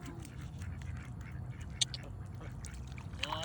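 Ducks quack outdoors at an RV, a few short quacks standing out over a steady low background rumble, fairly near, with no talking.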